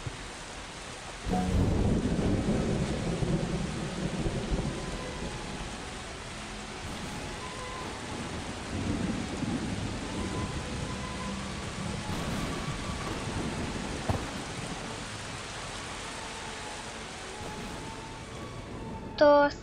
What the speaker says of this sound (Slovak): Inak je poriadna búrka.